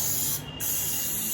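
A green plastic plant-watering spray bottle, newly bought and filled with water, hisses out a steady mist that runs almost the whole time, dipping briefly once in the middle.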